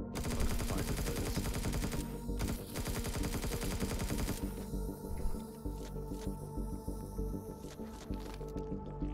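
Rapid, evenly repeated shots from a weapon in Empyrion Galactic Survival rattle on for several seconds at moderate loudness, with brief pauses and a thinner stretch near the end.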